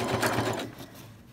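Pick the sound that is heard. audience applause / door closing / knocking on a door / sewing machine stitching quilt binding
sewing machine stitching quilt binding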